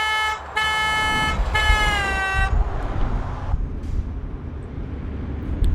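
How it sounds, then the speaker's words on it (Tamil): A truck horn in American Truck Simulator blares in several loud blasts, short toots then a longer sustained honk, before fading into steady road and engine rumble. "ஹாரன் கொஞ்சம் கிரேசியாக இருக்குது."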